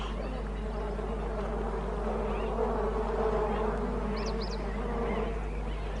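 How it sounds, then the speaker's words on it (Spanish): Bees swarm around a water hole in the African bush, a dense, steady buzzing hum holding throughout at moderate level, with faint bird calls now and then. "pero está lleno de abejas"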